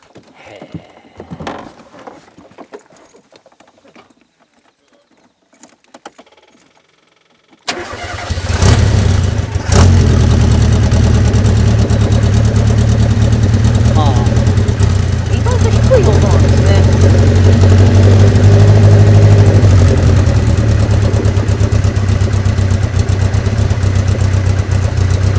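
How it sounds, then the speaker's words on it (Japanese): After some quiet handling noises and voices, a Ginetta G4 sports car engine cranks and catches abruptly, then settles into a loud, steady, throbbing idle that runs on close by with a few blips. "ちょっとエンジン音聞きたいね"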